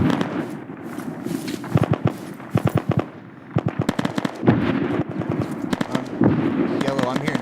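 Volleys of gunfire crackle in Arma 3, sharp rapid bursts in irregular clusters that sound somewhat distant, with people talking over the shooting throughout.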